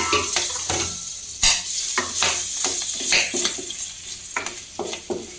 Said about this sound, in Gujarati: મરચાંને થોડાક તળાવા દઈશું પછી આપણે એમાં મકાઈ એડ કરશું